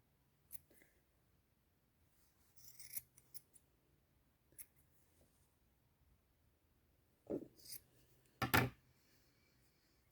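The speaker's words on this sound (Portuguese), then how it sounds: "Aqui você vai precisar da tesoura." Scissors snip yarn while a crochet pompom is being trimmed, with a few short, close cutting bursts spread across an otherwise quiet stretch.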